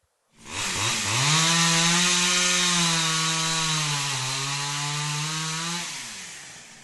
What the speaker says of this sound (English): she could barely pull the starter handle on her chainsaw